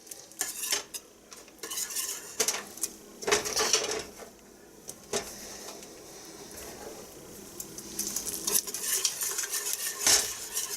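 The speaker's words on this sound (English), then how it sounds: "So now I'm going to add my cheddar cheese." A spoon stirs shredded cheddar cheese into a thickened butter-and-flour roux with milk for homemade mac and cheese, giving repeated scraping and clinking against the pot in uneven bursts, close up, with no talk.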